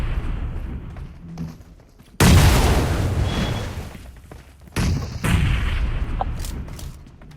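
A grenade blast in a multiplayer shooter during a LAN tournament match, a sudden loud boom followed by a decaying roar, then a second heavy burst with scattered gunfire and a low rumble in between.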